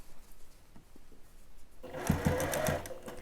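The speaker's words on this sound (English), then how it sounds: "I'm sewing over my pins, and my machine can handle it" A sewing machine stitches over pins while basting a child's dress bodice, its motor starting partway through and running in a steady close whir with a few sharper needle ticks, alone without talk.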